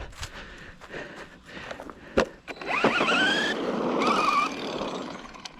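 Hobytech Rogue Terra RC car with a 3S setup and modded wheels, its electric motor whining up in rising sweeps under throttle over rocky ground, with crunching and scraping of gravel, moderately close.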